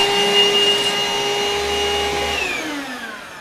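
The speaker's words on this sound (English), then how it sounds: "Supervac 2-in-1 cordless, bagless, upright vacuum cleaner" A Morphy Richards SuperVac 2-in-1 cordless bagless upright vacuum cleaner runs with a steady whirring motor hum and a high whine, close and continuous, its pitch dropping slightly near the end.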